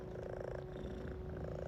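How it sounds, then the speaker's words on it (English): A house cat purrs close up in a continuous, even, low rumbling drone while being pushed off a lap, quiet and unbroken, with no talking. "I'm pushing my cat off"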